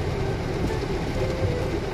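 Heavy rain pounds steadily on a vehicle during a road trip, a dense, loud, continuous wash of drumming with no talking.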